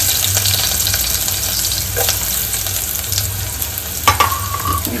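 Garlic, green chillies and onion crackle and sizzle in hot oil in a pan for dal bati, a steady dense frying hiss with occasional stirring scrapes and a sharp clink near the end.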